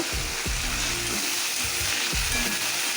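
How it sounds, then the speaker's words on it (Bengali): Onion frying in hot oil with whole garam masala spices and dried red chillies, a loud, continuous close sizzle broken by rhythmic scraping and stirring strokes. "এই তেলের মধ্যেই আমি গোটা গরম মশলা শুকনো লঙ্কা দিয়ে ফোড়ন দিয়ে পেঁয়াজটা ভেজে নেব"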